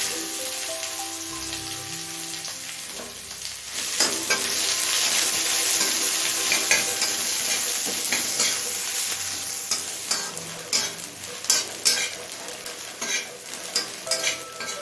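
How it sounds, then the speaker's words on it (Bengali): Chopped onion frying in hot oil with cumin and bay leaf, a loud steady sizzle joined by a spatula scraping and stirring in the pan, with no voices. "পেঁয়াজ হালকা লাল করে ভেজে নিয়েছি"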